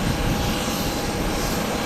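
Global Crossing Airbus A321 charter jet inbound to land, a steady loud engine roar and rushing air with no pauses, heard alone.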